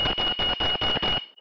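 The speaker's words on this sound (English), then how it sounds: "So if I put it in buzzer mode now" A loud electronic buzzer fitted to a quadcopter drone beeps in six rapid, evenly spaced pulses, then cuts off.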